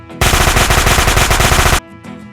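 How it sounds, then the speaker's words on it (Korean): A loud fart sound effect, styled like cannon fire for a children's storytelling reading, bursts out as a rapid buzzing rattle lasting about a second and a half before cutting off abruptly. "군인이 된 조가 엉덩이에 힘을 팍 주고 요란한 대포 소리를 내면"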